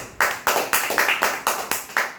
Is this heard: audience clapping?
yes